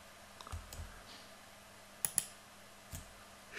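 A few sharp, quiet mouse clicks in Blender while switching to face select mode, isolated taps scattered over a few seconds in a silent room.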